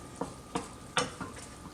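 Mock crab made from WW2-era rations fries in a pan. There is a faint, low sizzle and several soft scraping taps from stirring over about two seconds.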